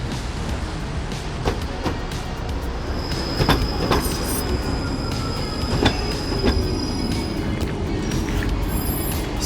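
A tram in Moscow rolls along the rails with steady rumbling, clanks and intermittent high wheel squeals, no voices.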